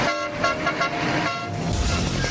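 Steady car horn honking blares continuously, mixed with traffic rumble nearby.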